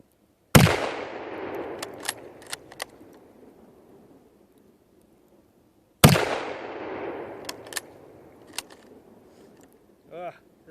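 Two loud Mosin Nagant 1933 91/30 rifle shots fire about five seconds apart outdoors, each a sharp close blast with a long rolling echo, followed by metallic clicks of the bolt being worked.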